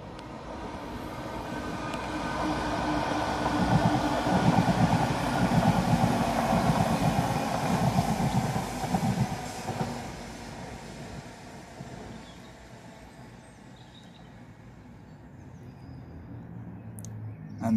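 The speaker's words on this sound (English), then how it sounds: "And there goes another train." A train rumbles past in the English Midlands, a broad rolling roar that builds over the first few seconds, stays loud for several seconds, then fades to a softer rumble.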